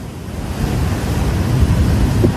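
Sea waves surge against the shore near Tiruchendur during Cyclone Fengal as a strong gale of about 60 km/h blows. The roar of surf and wind is loud, steady and builds slightly, with no voices.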